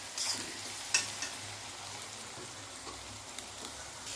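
Onion paste frying in a pan for a paneer dish, a soft steady sizzle with occasional sharper crackles and stirring scrapes, close and moderately quiet, no voices.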